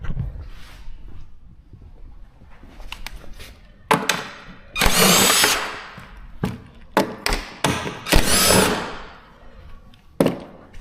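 A power tool whirs in several short bursts as 10 mm bolts are removed while replacing a Gio Tetris scooter battery, with close thuds, taps and clanks of parts being handled between the runs.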